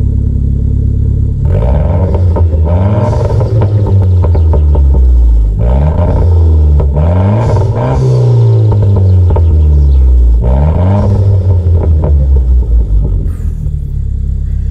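A Renault Clio 4 RS with a 1.6 turbo engine, set to RS mode, revs loudly and repeatedly, its deep rumbling exhaust climbing and falling in several bursts up close.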